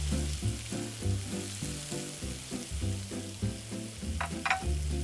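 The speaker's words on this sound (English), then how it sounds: "Place them down on a hot grill." Artichokes coated in olive oil sizzle steadily on a very hot grill, a close, continuous crackle with a few brighter spits near the end.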